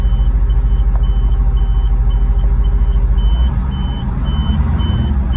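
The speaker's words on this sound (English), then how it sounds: "And the bed goes up." A 1984 GMC bobtail dump truck engine runs loud and steady with a deep rumble as the PTO raises the dump bed, a repeating beep sounding over the engine throughout.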